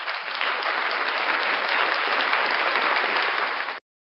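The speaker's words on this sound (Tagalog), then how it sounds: "Haba naman ang palakpak ko na ito." Recorded applause sound effect played during a livestream, dense steady clapping from a crowd heard alone before cutting off abruptly.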